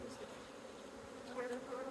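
Honeybees buzz softly while being moved into a small hive, a faint, steady insect drone close by with a few slightly louder passes near the end.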